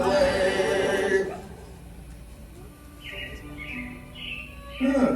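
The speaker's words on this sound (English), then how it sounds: "It looks like the Robins are getting ready to celebrate Valentine's Day today." Show sound effect of robins chirping in Walt Disney's Carousel of Progress at Magic Kingdom, heard as a few short, high, fairly soft bird chirps in a quiet gap between louder music.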